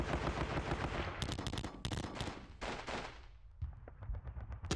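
Dense gunfire from the Normandy wargame Panzer Battles, with rapid bursts of automatic fire and overlapping shots in a continuous loud fusillade that briefly thins before new volleys, with no talking.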